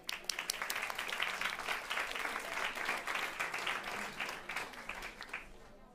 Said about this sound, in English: So please give them a warm round of applause